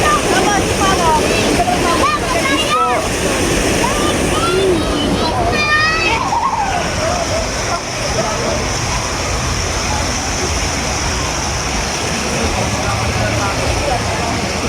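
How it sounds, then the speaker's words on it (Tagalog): Rushing water flows steadily through a flooded cave passage, a loud continuous roar with splashes, while people talk over it in the first half. "Kita nyo yung takbo ng tubig."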